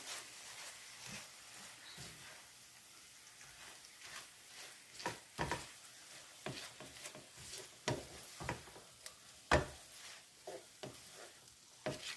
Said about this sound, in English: Keep stirring till it is well coated